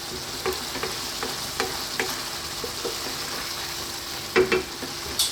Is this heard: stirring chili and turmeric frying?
yes